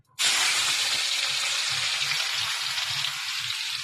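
Tomatoes dropped into hot oil burst into a loud, bright sizzle that starts abruptly and holds steady, hissing close up for several seconds.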